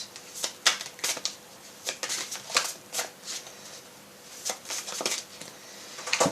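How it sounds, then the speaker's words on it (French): Tarot cards being shuffled by hand, a series of quick riffling bursts in uneven rhythm, close and fairly quiet, with no talk. "Je vais brasser un peu plus."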